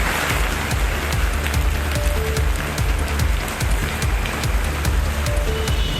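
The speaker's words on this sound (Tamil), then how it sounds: "தூத்துக்குடி மாநகரில் 3 மணி நேரத்திற்கு மேலாக கனமழை வெளுத்து வாங்கியது." Heavy rain pours down over the city of Thoothukudi, a dense, steady hiss of drops striking surfaces with scattered sharper patters throughout, unbroken and without talk.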